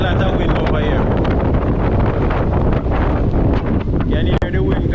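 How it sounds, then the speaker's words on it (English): Strong wind roars near the coastline, battering the microphone with loud continuous rumbling gusts, while a voice talks faintly underneath. "Can you hear the wind guys?"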